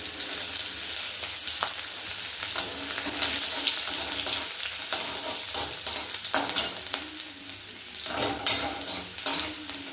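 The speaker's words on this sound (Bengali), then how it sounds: "তেলের মধ্যে আমি পরিমাণ মতন আদা কুচি, পরিমাণ মতন রসুন কুচি করে দিয়ে দিলাম।" Chopped ginger and garlic fry in hot oil for chicken manchurian, a constant close sizzle broken by scraping stirs and light clanks of a spatula against the pan, no talking.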